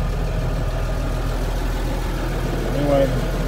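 A Massey Ferguson 3680 tractor engine idles steadily with a low, constant rumble, and a voice speaks over it.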